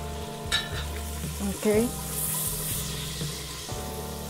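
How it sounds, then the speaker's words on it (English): Butter melting in a pot over a medium flame, a steady close sizzle with a few clinks and stirring sounds; a voice speaks briefly. "So for this pot, we're going to melt some butter."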